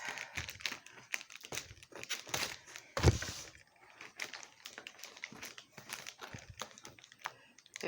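A package wrapped in purple paper being torn open and unwrapped, with close crinkling, rustling and tearing of paper and a sharp rip partway through, under quiet talk.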